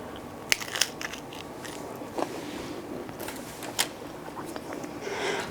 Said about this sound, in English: gotta have one more bite.